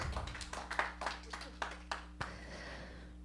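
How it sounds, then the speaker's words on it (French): A few people in a church audience clap, about a dozen distinct, fairly quiet claps in an uneven rhythm over a steady background hum, fading out after a couple of seconds. "C'est bon, on peut les applaudir."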